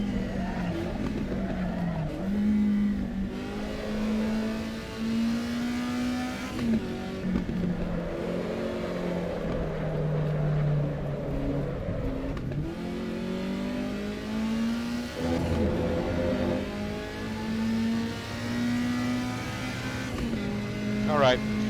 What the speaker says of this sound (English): I am revving every time that I downshift, because otherwise I'll die.